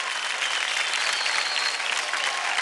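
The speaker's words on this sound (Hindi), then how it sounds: "जोरदार तालियां हो जाए क्रॉकरोच के लिए।" A television dance show audience applauds a dance performance: steady, loud, dense clapping that fills the whole moment without a break and without voices over it.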